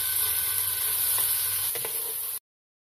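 A large onion dropped into hot oil in a pressure cooker sizzles steadily and loudly as it is stirred, with a few faint clinks, then cuts off abruptly; no talking.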